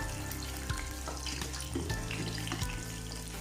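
Onion pakoras fry in hot oil with a steady bubbling sizzle, a few soft clinks and knocks of a utensil sounding as the pieces are turned to the other side.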